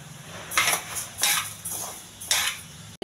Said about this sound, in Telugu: ఈ బియ్యం కూడా సిమ్లో పెట్టుకుని ఎగించాలి